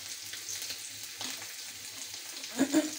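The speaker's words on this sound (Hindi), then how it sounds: "आलू को हम थोड़ा सा भूनेंगे," Potatoes fry quietly in a pan for achari aloo, giving a soft, continuous sizzle. A brief clatter or stir is heard near the end.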